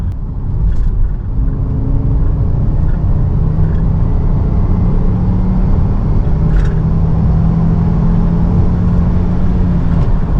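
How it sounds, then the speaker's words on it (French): A Ford S-Max 2.5T with a five-cylinder turbo engine holds a loud, steady, deep rumble at fairly even revs, close up, with no talking over it. "Un 5 cylindres turbo,"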